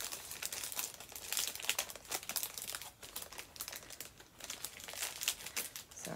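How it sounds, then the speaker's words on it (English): Plastic bag from a fabric charm pack being ripped open up close, a steady run of crinkling and crackling with brief tearing bursts throughout, no voices. "And I'm just destroying this bag."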